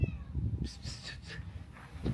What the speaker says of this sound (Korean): 또 개냥이들이 있네.